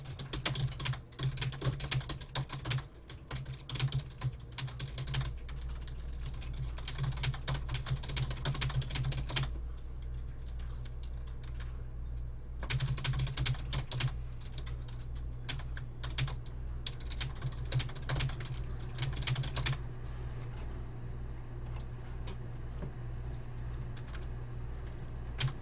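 Fast, continuous typing on a computer keyboard, a dense run of quick clicking keystrokes with brief pauses, close and fairly quiet throughout.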